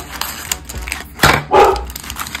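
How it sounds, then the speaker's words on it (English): A dog barks indoors beside rustling toy packaging, with a couple of sharp close barks standing out against crinkling plastic and light tapping noises. "Sorry for the barking dog."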